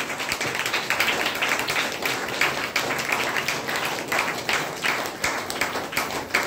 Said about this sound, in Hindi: बजाइए ताली जोर से